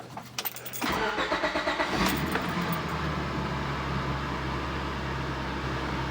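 A 2001 Honda Accord engine, just after a valve adjustment, cranks with a few rapid churning pulses, catches, and settles into a steady, even idle close by.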